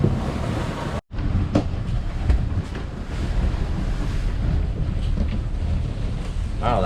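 Ocean waves slosh and rush against a sailboat at sea on a rough passage, a loud continuous roar mixed with wind buffeting the microphone.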